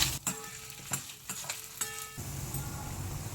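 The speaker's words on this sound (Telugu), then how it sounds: "ఒక 15-20 వెల్లిపాయలు చక్కగా వేగించుకోవాలి." Coriander seeds, cumin, chana dal, red chillies and garlic frying in a pan give a soft sizzle with a few sharp stirring scrapes and clinks early on, then settle into a steady quiet crackle.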